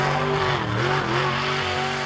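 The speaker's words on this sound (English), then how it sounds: "a Chevrolet 350 series engine developing between 700 and 900 brake horsepower" A car with a Chevrolet 350 series engine developing 700 to 900 brake horsepower revs hard and close, its loud, harmonic engine note rising and dipping as the throttle shifts.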